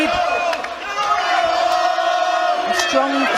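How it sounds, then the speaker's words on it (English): Home crowd roaring at a boxing fight, a dense, loud sustained cheer with shouts and whoops rising over the general din throughout. "Levi Giles in front of his home crowd, they're all on the feet."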